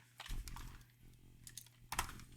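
Typing on a computer keyboard while entering C# code in Visual Studio 2019: a few scattered clusters of close, crisp key clicks over a steady low hum, with a louder burst of keystrokes near the end.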